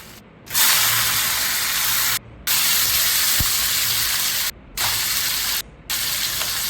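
Tomato dropped into a hot pan of oil with five-spice and onion, giving a loud, close, continuous sizzle that breaks off briefly several times as the pan is stirred.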